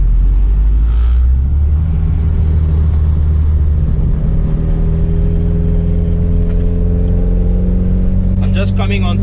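A Volkswagen Mk1 Golf with a 2.2-litre ABF engine and individual throttles accelerating in third gear on a freeway on-ramp: a loud, steady engine drone climbing in pitch, with a person talking over it.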